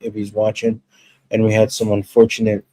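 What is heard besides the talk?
No everyday noises stand out.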